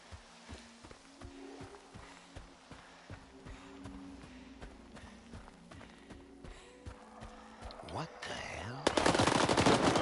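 Ram 2 shotgun blasts in the video game STALKER 2, a run of sharp repeated shots under game ambience and movement, building to a loud, dense burst near the end.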